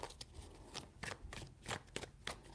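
Close, quiet shuffling of a tarot deck, with a steady run of rapid papery card flicks and riffles that repeat in quick succession, no voice present.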